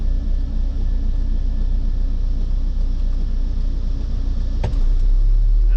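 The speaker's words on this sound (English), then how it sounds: "So car and dyno are ready for a second run." A Volkswagen Transporter with an 84 hp engine and a stage 1 remap runs on a dyno, giving a loud, steady, droning rumble that swells slightly near the end and has one sharp click.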